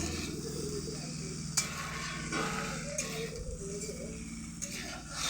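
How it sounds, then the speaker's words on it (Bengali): Fish frying in a pan, a steady close sizzle with scraping stirs and the occasional clink of a utensil, while a voice talks faintly in the background. "এবার মাছগুলি দিয়ে দিলাম, কষানো হয়ে গেছে, মাছগুলি দিয়ে দিলাম। অল্প ভেজে"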